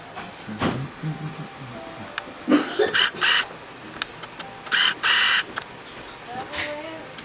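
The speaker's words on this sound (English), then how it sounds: "I'm printing everything out" A printer at a business prints documents, with short bursts of whirring mechanical feed and clatter repeating several times, interspersed with quieter pauses and faint background voices.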